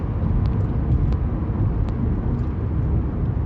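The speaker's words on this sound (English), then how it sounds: "I'm doing 50 mile an hour on a 60 mile an hour road, and it still wants to go even more." A Vauxhall Corsa E cruises at 50 mph on a 60 mph road, a steady low road and motor rumble heard from inside the cabin without pause.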